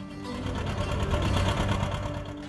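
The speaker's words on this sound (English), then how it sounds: "there's just something about that 2-cylinder sound that you can't get out of your system" A steady, rapid mechanical chugging of a two-cylinder tractor engine running, loud and close, with an even rhythmic throb throughout.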